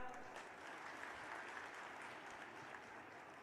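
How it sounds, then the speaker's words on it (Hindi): An audience at a public political gathering in Gwalior claps in a steady burst of applause, heard faint and fairly distant throughout. "अगर सही है तो ताली बजा दो।"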